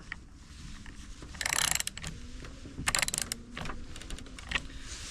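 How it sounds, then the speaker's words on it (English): A socket wrench ratchets nuts back onto the bar of a STIHL Farm Boss chainsaw, giving close, quiet clicking bursts with a few louder ratchet runs and no talk. "now we're gonna take our socket wrench and put back on these bolts here"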